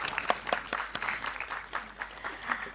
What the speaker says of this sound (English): A big round of applause for Professor Sharma.